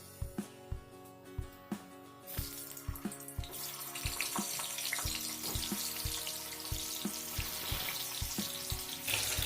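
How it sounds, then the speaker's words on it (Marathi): Potatoes being fried in hot oil over a medium flame: a few sharp taps at first, then a loud, steady, close sizzle and crackle that keeps building, with no talking. "त्यामध्ये आपण बटाटे घालून घेऊया आणि फ्राय करून घेऊया।"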